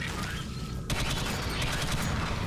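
Sustained rapid gunfire from the sci-fi co-op shooter Alien Swarm, a dense continuous burst that begins abruptly about a third of the way in and keeps rattling loudly to the end.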